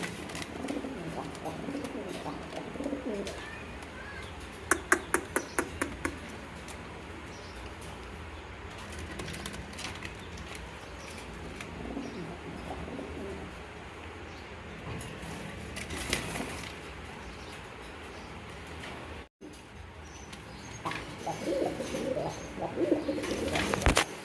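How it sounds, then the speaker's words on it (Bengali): Large pigeons in a pigeon seller's loft make soft, low cooing amid quiet rustling and the occasional burst of flapping wings, with faint background noise throughout. "দেখেন এখানে আরেক জোড়া কবুতর দেখতে পাচ্ছেন, এটা হলো বড় পায়রা কবুতর।"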